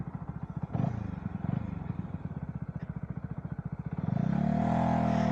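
A VOGE 125R 125cc motorcycle engine runs steadily up close with a pulsing rattle while riding on a road, then revs up and holds a louder, rising drone toward the end.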